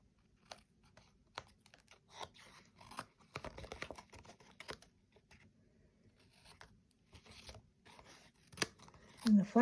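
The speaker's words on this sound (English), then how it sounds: "Get my scissors." Scissors snip the edges of designer paper for a quilt-look card in a series of quiet, close, irregular cuts with pauses between them, and a faint voice is heard in places.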